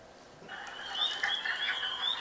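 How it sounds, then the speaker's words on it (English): Spring peepers and wood frogs calling at night: a chorus of high, shrill peeping trills rising after a brief pause and holding steady at moderate volume, with no talk. "Peepers and the clucking are the wood frogs."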